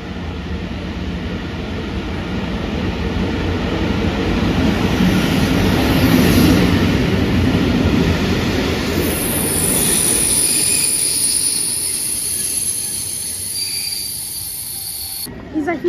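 A TLK Roztocze passenger train hauled by a locomotive rolls into Lublin Główny station, its wheels rumbling and squealing with a hissing undertone that swells mid-pass and eases off toward the end, loud and close.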